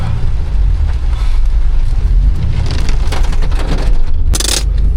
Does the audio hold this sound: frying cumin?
no